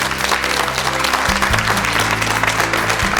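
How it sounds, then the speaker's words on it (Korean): Studio audience on a Korean morning talk show breaks into sustained, dense applause welcoming a married couple onto the stage, steady and fairly loud throughout with a low hum beneath. "박수로 맞이해 주십시오"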